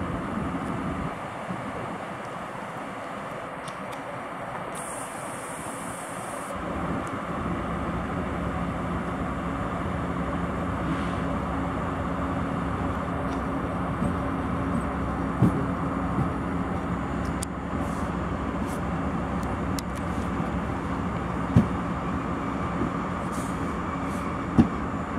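EU07 electric locomotive coupling two carriages to the IC Wyspiański train at a station, a steady rumble of idling rail machinery with scattered faint clanks and knocks throughout.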